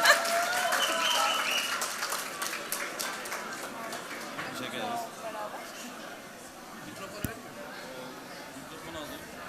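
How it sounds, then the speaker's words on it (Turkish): Crowd applause that starts loud and gradually thins out, with scattered claps and murmuring voices continuing underneath. "Kocaman alkışlar gelsin."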